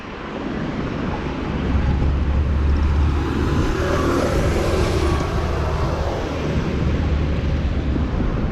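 Steady broadband road noise from cars going by near a garden crosswalk, a continuous low rumble swelling slightly mid-way with some wind buffeting, no voices.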